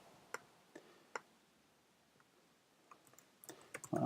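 Keys click on a Mac keyboard during a copy shortcut, a few sparse, sharp taps followed by a quicker cluster of clicks at the end, close and fairly quiet.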